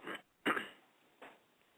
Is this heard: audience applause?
no